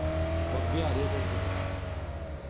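A buggy driving in the mobile battle royale game BGMI, its engine droning steadily and close under game music and someone talking over it.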